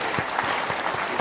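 An audience claps in a steady patter of applause, close and even for the whole moment with no talking over it.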